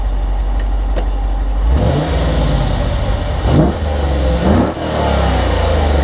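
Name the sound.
2014 Dodge Challenger engine revving during flyby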